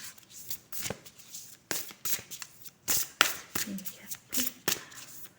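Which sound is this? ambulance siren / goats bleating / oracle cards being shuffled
oracle cards being shuffled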